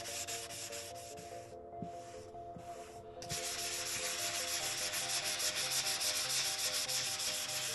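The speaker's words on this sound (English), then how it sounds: "Sanding, cleaning, sanding and cleaning." Hand sanding of rust on a vintage Singer sewing machine: steady abrasive rubbing strokes, close and continuous, briefly pausing then resuming louder and denser, with no voices.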